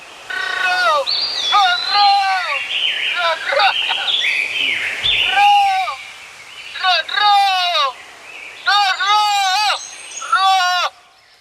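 Parrots screech in a bitter gourd farm, their harsh calls repeating in close, loud bursts with short pauses between them.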